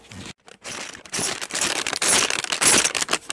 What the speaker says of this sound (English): That's the sound of real money.